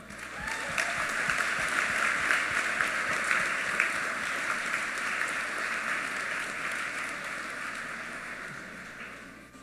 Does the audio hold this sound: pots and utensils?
no